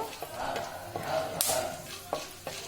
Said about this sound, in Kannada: ಖಾರ ಪೊಂಗಲ್ಗೆ ಒಗ್ಗರಣೆ ಹಾಕ್ಕೊಳ್ಳೋಣ ಒಂದು ಸ್ಪೂನು ಕಾಳು ಮೆಣಸು ಮೆಣಸು ಸಿಡಿಬೇಕು